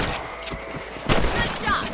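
Rifle shots at rabbits in Red Dead Redemption: a few sharp reports, including a loud crack midway, over faint game ambience, with no clear talk.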